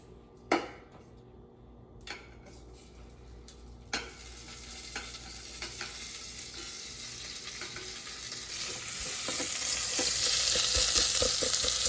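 Sliced onions and green chilies frying in an Instant Pot, a steady sizzle that builds louder over time, punctuated by a few sharp clinks and scrapes of a spoon stirring against the pot.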